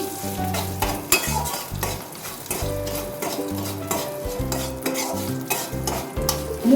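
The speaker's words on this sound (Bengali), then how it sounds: "একটা কাঁচা লঙ্কা ওটা লাল হয়ে গেছে আর একটু জিরে গোটা জিরে আর একটু তেজপাতা দিচ্ছি সামান্য আমি সর্ষের তেলে করছি" Green chili, whole cumin and bay leaf frying in mustard oil for a Bengali dal, with a steady crackling sizzle and repeated metal stirring scrapes against the pot, close and without talk.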